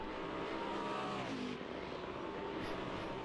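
A 1990s V8 supercar in the Assetto Corsa racing game holds a continuous, moderately loud engine drone whose pitch shifts slightly as it pulls, heard alone with no talk.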